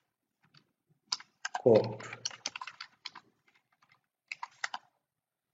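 Fingers tap out a short burst of typing on a computer keyboard while writing in MS Word, clusters of crisp clicks in uneven bursts, with a person speaking over part of it.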